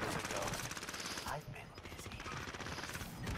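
Rapid automatic gunfire crackles through nearly the whole stretch of a Ghost Survivor match, a dense continuous burst with only a brief dip midway, steady and loud in the foreground.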